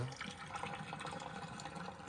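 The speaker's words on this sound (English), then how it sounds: "And then we're gonna strain the pasta." Hot pasta water pours from a pot while the pasta is strained, a steady splashing, gurgling stream lasting about two seconds, close and moderately loud.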